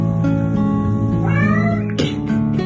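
A shy shelter cat with a stubby nub tail meows up close, a drawn-out rising cry followed by a second sharp call, with no voices present.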